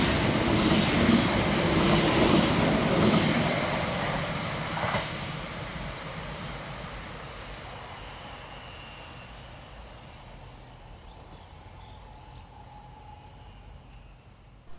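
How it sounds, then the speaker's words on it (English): Greater Anglia class 720 electric train 720-570 passing fast through Stamford Hill station, a loud rushing roar of wheels and carriages that gradually fades into the distance over several seconds, leaving quiet ambience. "Next to pass through the station for Greater Anglia is 720-570, working 2H31 from Cambridge North through to London Liverpool Street."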